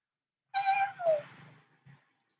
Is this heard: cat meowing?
yes